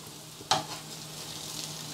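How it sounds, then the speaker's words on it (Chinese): Flour-dusted oxtail pan-fries in oil before stewing, giving a steady close sizzle with one sharp clack early on as the pieces are turned. "煎咗2分鐘，咁一再反一反佢"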